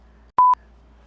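A telephone gives a single short, steady dialing tone, clean and alone against near silence.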